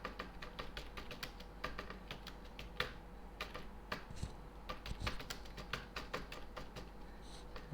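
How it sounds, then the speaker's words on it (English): Keys tap continuously on a computer keyboard, a close, busy clatter of irregular clicks over a low background hum. "So what I'll do is I'll keep typing Scribus."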